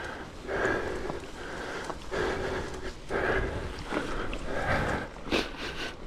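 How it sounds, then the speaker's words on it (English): Repeated nasal sniffs from a rider pushing a heavy 30 kg bike up a steep hill, coming in several close, breathy bursts at a steady rhythm against outdoor background noise. "Excuse the sniffs."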